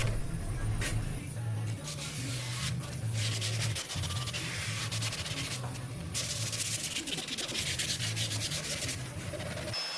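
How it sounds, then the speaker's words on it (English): Sandpaper rubbing over wooden bedside table legs, a continuous scratchy back-and-forth hiss in uneven strokes, close and steady throughout with no talking. "go over the legs again with a card scraper and a little bit of sandpaper"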